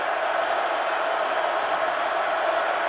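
A college football stadium crowd at an Oklahoma State versus Baylor game roars in a steady, dense wash of noise, unbroken and fairly loud throughout.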